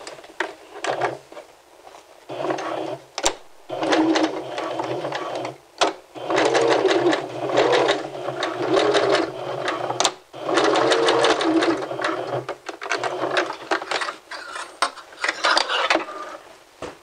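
Sewing machine stitching the under flap of a men's vest, running in several sustained bursts of a steady mechanical whir separated by brief pauses, loud and close throughout.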